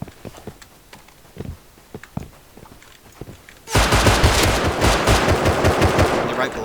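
In a shooting video game, scattered single shots pop at a distance, then a dense, loud burst of rapid automatic gunfire erupts and keeps rattling to the end.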